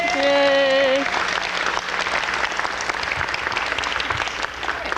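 An audience at a community show bursts into loud applause right after a brief vocal cheer, sustained clapping filling the room at close range.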